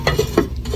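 Banana pieces frying in a pan for a snack, with a steady sizzle and a couple of soft stirring scrapes, close up and without talk.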